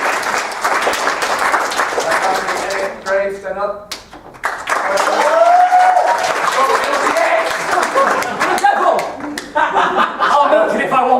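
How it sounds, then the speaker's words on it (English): An audience applauds after a comedy sketch, broad clapping mixed with chuckles, fairly loud and near, with brief pauses where someone speaks over it before the clapping swells again. "So give it a round of applause."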